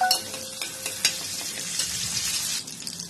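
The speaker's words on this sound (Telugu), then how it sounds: "కరివేపాకుని యాడ్ చేసుకుంటున్నానండి. అలాగే పచ్చిమిర్చిని కూడా యాడ్ చేసుకుంటున్నాను." Curry leaves and green chillies crackle and sizzle in hot oil, a steady close frying hiss with a few sharp pops and spatters, no voices.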